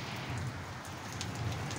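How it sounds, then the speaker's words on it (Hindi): Heavy rain pours onto a terrace garden in a dense, steady hiss of drops hitting the surfaces nearby, continuous and fairly loud throughout, with no voices. "तेज बारिश आ रही है, बढ़िया है।"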